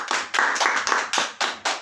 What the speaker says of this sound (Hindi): हम लोग तालियां मार के प्रभु की स्तुति करेंगे।